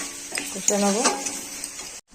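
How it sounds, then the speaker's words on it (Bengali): Onion and tomato sauté in a pan for chicken curry, a close sizzle under rough scraping strokes of a spatula that stop abruptly near the end. "পেঁয়াজটা আমার ভাজা হয়ে গেছে, আমি টমেটোটা দিয়ে দেবো,"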